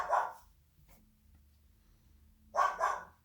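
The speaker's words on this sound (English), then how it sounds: "You are hearing young Master Bertram barking at passersby in the living room." A young dog named Bertram barks in a living room at people passing by: one bark, a pause, then two quick loud barks close by, with no talking.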